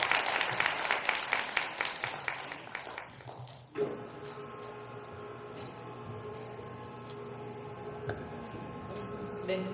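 An audience at a National Assembly policy forum on long-term care claps after a presentation, a dense burst of applause that fades out after about four seconds and gives way to quiet room tone.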